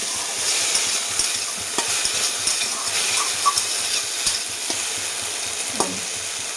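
Okra (bhindi) fries in a pan with a steady, loud sizzle as a utensil stirs it, scraping and tapping at irregular intervals.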